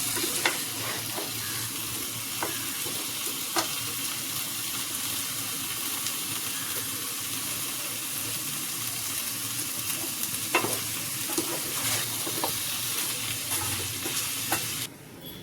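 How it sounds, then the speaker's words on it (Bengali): Spices being sautéed in a pan before potatoes go in, a long steady sizzle with scattered spatula scrapes and taps, close and even, dropping away abruptly at the very end. "মশলাগুলো একটু কষানো হয়ে গেলে তারপরে আলু দিব।"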